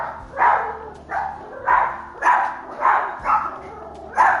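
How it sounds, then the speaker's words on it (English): Dog barking in a steady run of about seven loud, evenly spaced barks, close by and alone with no talk over it. "Dogs are barking."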